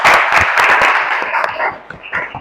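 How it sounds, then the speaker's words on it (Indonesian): Audience applause in a teaching session, a dense burst of many hands clapping close by, steady for a couple of seconds before thinning out. "Tepuk tangan buat kalian semua."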